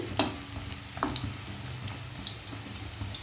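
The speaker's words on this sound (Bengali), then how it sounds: "একটু সময় নিয়ে মিডিয়াম ফ্লেমে ভাজলে ভেতরটাও খুব ভালো করে কুক হয়ে যাবে, সেই জন্য আমি মিডিয়াম ফ্লেমেই ভাজছি" Chicken pakoras deep-fry in oil over a medium flame, a soft steady bubbling with a few sharp clinks and scrapes, no talking.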